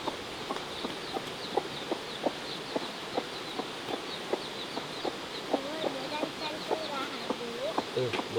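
Newly hatched baby chicks being moved outdoors by a farmer to feed, giving soft repeated peeps and small clucks in a steady scattered rhythm, fairly close, over a low background hum.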